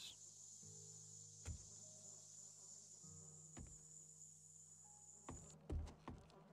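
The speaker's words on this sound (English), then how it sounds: "Why would we just randomly get a bunch of crickets?" Crickets chirp in a steady, continuous high drone in the video game 7 Days to Die. Low ambient tones run beneath it, and a few soft thumps land throughout before the chirping cuts off near the end.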